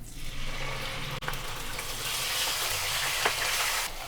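Onion paste frying with spices in a pan for a baingan masala, a steady, loud, close sizzle holding throughout with a faint low hum underneath.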